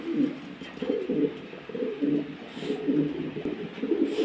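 Beauty Homer pigeons coo in a loft, repeated low rolling calls in a steady rhythm, close and clear with no talking.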